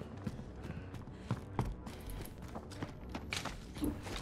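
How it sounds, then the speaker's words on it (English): Footsteps in Warzone, faint quick steps tapping just outside in a soft, uneven rhythm against low game ambience, with no talk over them. "I hear that footstep outside."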